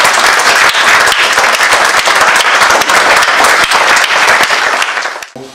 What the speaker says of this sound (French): je vous demande vraiment de les applaudir tous les 2, tous les 3.